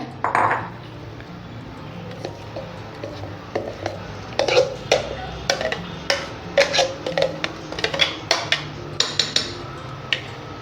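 Cake batter for an eggless gulab jamun cake is scraped from a mixer jar into a bowl, with a run of sharp metallic clinks and taps from a spoon against the jar, close and moderately loud over a quiet background.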